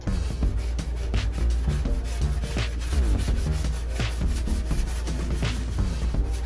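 Continuous abrasive sanding of a car engine bay down to bare metal, a steady rough rubbing with rhythmic back-and-forth strokes, close and fairly loud, no voices.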